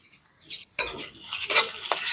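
Ground cumin and coriander, roasted whole and crushed raw, hit a pan of frying samosa filling, giving a sudden close sizzle followed by steady frying hiss and a few stirring scrapes, with no voices.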